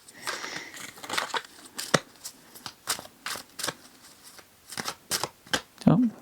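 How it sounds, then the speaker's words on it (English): Tarot cards are shuffled by hand in a quiet room, a run of crisp riffling bursts and slaps in irregular clusters, close and clear with no talking. "So, just gonna kind of shuffle, see if anything wants to pop out immediately."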